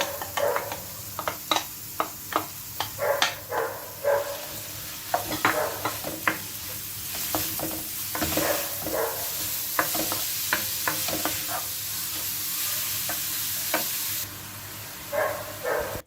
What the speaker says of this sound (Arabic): في مقيله درت شويه ديال الزيت وغادي ندير البصيله ديالي شحر